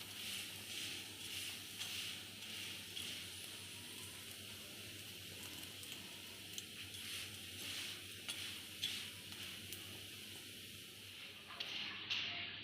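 Lachha paratha cooks in ghee over low heat with a quiet, steady sizzle and hiss throughout, a low hum underneath and a few faint scrapes toward the end.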